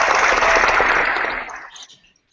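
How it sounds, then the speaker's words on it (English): Applause closing a scientific seminar on large bacteria, dense and steady clapping at full strength for over a second before tapering quickly into silence. "We have to do the appropriate seminar ending with the applause."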